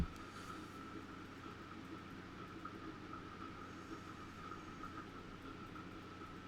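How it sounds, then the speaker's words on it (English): In the Transport Fever 2 game, an aging rusty passenger train keeps rolling, its low steady rumble and faint rail noise sustained evenly for several seconds with no one speaking. "Nice passenger train."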